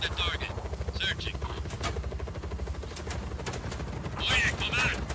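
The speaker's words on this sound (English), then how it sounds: "He's in a helicopter." Helicopter in the video game Just Cause 4, a steady low rotor drone with rapid chopping pulses running throughout, joined by sharp bursts of gunfire and game effects.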